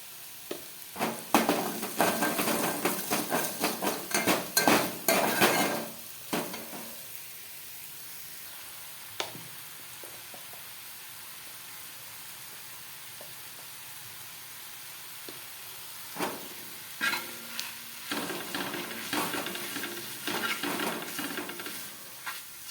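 Onion and masala for a red mutton curry fry in a pan, loud bursts of sizzling and stirring scrapes at the start and end with a quieter, steadier hiss between them.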